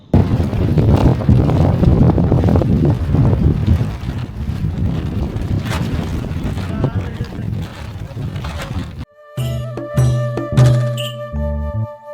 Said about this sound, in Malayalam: ഇടയ്ക്കൊക്കെ വീശിയടിക്കുന്ന കാറ്റ്